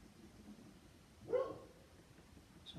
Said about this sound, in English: My dog's going crazy upstairs because a bike is riding by.